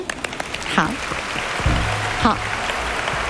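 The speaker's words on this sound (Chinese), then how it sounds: "我觉得他们都应该值得我们大家给他热烈的掌声" An audience claps steadily at a Hakka music award ceremony, a dense wash of applause under which a presenter's voice briefly cuts in.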